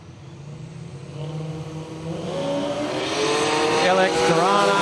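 Drag racers, an LX Torana against a Datsun Bluebird, launch down the strip at Willowbank Raceway, engines rising steadily in pitch and volume as they accelerate away.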